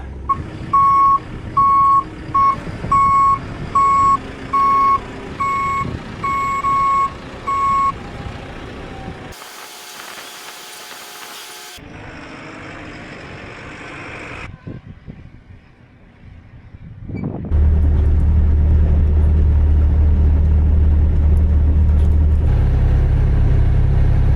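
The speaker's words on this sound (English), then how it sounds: "Harvey's just going to reverse that low loader under there" A low loader truck reversing on a shed demolition site sounds a steady run of loud, evenly spaced reversing beeps, then goes quiet briefly before a deep engine rumble swells up loud and sustained.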